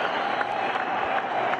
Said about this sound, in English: there's the 50 and there's the roar from this crowd